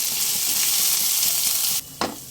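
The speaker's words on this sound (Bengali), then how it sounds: "লো ফ্লেমে কয়েক মিনিট ভাজা করে নিয়েছি আদা রসুনের কাঁচা গন্ধটা চলে যাওয়ার পর" Ginger-garlic paste and chopped green chillies fry on low flame in a pan, giving a dense, close, continuous sizzle that cuts off abruptly, followed by a brief clatter and a quieter hiss.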